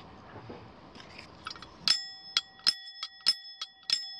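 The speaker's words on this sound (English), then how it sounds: "It's a San Francisco cable car has this bell on it." A San Francisco cable car bell is struck in a quick series of about eight bright, ringing clangs, each sharp strike leaving a sustained metallic tone, close and clear over a quiet background with no voices.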